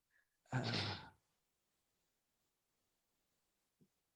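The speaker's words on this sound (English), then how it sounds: "now it's to the point where we listen to your breathing and not to your saying" A single loud sigh-like breath blown close into a microphone during an online panel session, followed by silence and a faint brief click near the end.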